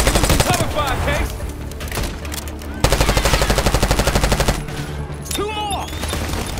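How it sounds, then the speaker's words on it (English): Sustained automatic gunfire from a Call of Duty: Black Ops 6 campaign mission, loud and close, with dense rapid bursts nearly continuous, a brief pause, then another long volley, with a few shouted voices over the shooting. "Give him some cover fire, Case!"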